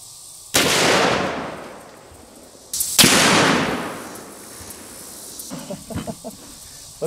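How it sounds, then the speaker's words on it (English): A Serbu RN50 rifle fires a 50 BMG black tip armor piercing round at a kettlebell outdoors: two sharp, loud booms a few seconds apart, each trailing a long rolling echo, followed by faint scattered knocks. "we're gonna be using the Serbu RN50, and we'll be loaded up with a 50 BMG black tip armor piercing round."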